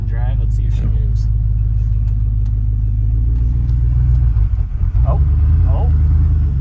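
A Ford Excursion engine runs at a loud, steady idle with a deep rumble after the truck is put in drive. People talk close by over the engine noise.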